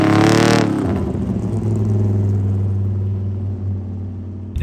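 A 1965 Pontiac GTO V8 runs loud and close, a sharp rev at the start settling into a deep, steady burbling idle with a strong low rumble.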